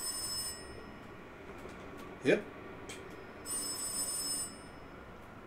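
Telephone ringing upstairs in the Call of Cthulhu video game, a short bright ring burst in the middle, moderately loud over a low game ambience, with a brief spoken word.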